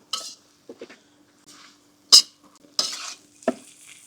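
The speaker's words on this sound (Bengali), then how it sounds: "এখন এগুলো আমি ভালো করে মিক্স করে নিতে হবে।" Sauces for street-style Thai noodles are stirred and mixed in a pan, giving a few separate scraping strokes and clinks of a utensil against metal over a quiet background.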